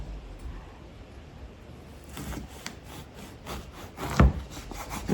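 A knife saws through a loaf of bread in a home kitchen, giving a run of soft, scraping strokes that grow rougher and louder toward the end, with no talking.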